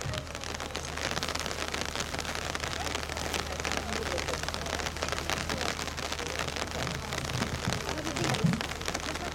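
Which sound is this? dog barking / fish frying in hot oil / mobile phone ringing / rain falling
rain falling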